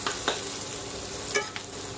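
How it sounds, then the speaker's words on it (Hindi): Chopped onions frying in a pan for masala idli, a soft steady sizzle with a few light scrapes of stirring at a close, even level. "अब इनको अच्छी तरह से भून लें"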